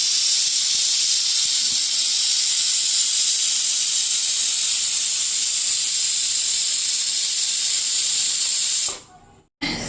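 A pressure cooker cooking goat meat lets out a long, loud, steady steam whistle hiss that runs for about nine seconds before cutting off abruptly.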